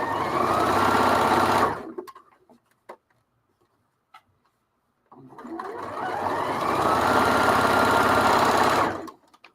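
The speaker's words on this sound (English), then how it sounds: "A lot of just sewing today." A sewing machine stitches in two steady runs separated by a pause of near silence with a few small clicks, the motor whirring loudly and evenly, no talk.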